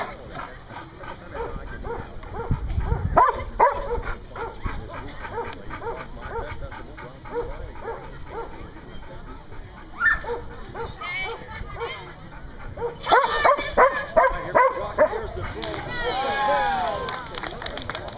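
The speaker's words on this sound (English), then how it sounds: "There's a lot of labs out here in Dock Dogs" Labradors barking at a Dock Dogs event, repeated sharp barks and yips in irregular bursts, some near and loud, others farther off, mixed with crowd noise and people talking.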